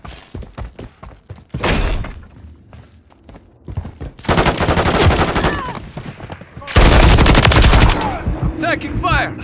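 Rapid automatic fire from an SVA-545 assault rifle in a Call of Duty MW3 Team Deathmatch on the Invasion map, with loud bursts and longer sustained volleys alongside scattered single shots and impacts.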